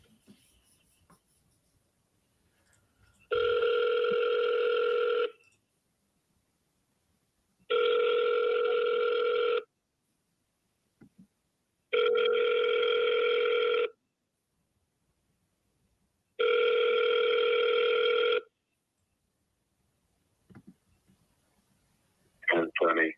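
A telephone rings four times in long, evenly spaced electronic bursts with silent gaps between them, clear and close.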